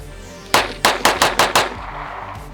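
A CZ Shadow 2 DA/SA pistol fires a string of six sharp, loud shots at close range, the first alone and the rest in a quick, fairly even cadence, then a faint distant shot follows.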